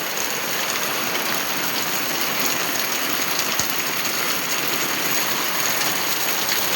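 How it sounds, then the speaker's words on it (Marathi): Steady rain pours at the back of a house in Konkan during the first May downpour, falling on taro leaves and a vegetable trellis in a dense, even hiss with no pauses. "पाऊस कंटिन्यू चालूच आहे."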